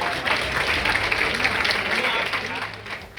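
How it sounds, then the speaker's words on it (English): A large crowd applauds for Florida Governor Ron DeSantis and First Lady Casey DeSantis at a public event, with steady, dense clapping that fills the room throughout, and some voices mixed into the ovation. "Must give a big round of applause."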